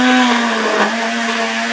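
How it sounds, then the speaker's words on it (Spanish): A kitchen blender runs at full speed, a loud steady motor whine with a constant pitch that dips briefly midway, heard close and alone before cutting off abruptly at the end. "Esta licuadora me va a hacer quedar mal en el puto video de YouTube"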